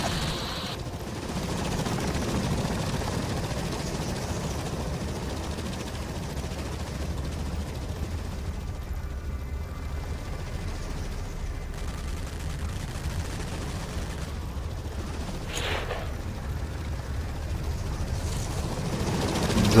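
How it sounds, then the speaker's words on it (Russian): Helicopters attacking with rapid machine-gun fire in S.T.A.L.K.E.R. Lost Alpha, sustained bursts of gunfire over a constant rotor drone across a swampy area, fairly loud and continuous. "Да, вертушки заходят для выстрела."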